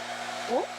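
A hair dryer runs inside a camper van, blowing with a steady loud whooshing roar, and a brief voice is heard over it.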